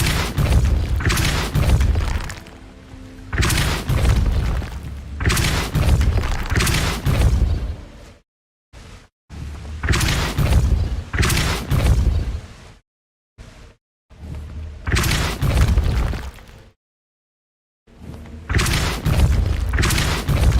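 Depulso and Incendio spell blasts in the video game Hogwarts Legacy, a series of heavy booming bursts and thuds in repeated clusters separated by short silent gaps, loud and close.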